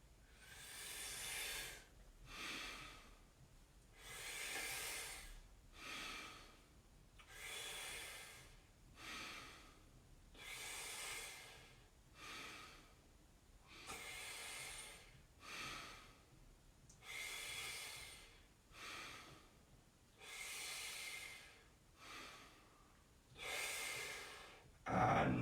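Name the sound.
whooshing pursed-lip breathing exercise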